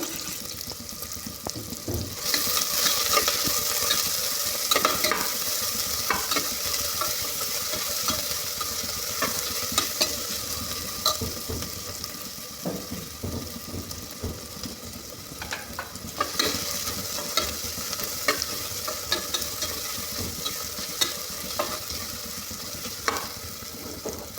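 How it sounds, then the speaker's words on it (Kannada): Onions sizzle steadily in hot oil while a utensil stirs and scrapes the pan now and then, close and fairly quiet. "ಫಸ್ಟು ಒಗ್ಗರಣೆಗೆ ಈರುಳ್ಳಿನ ಹಾಕ್ತಾಯಿದ್ದೀನಿ"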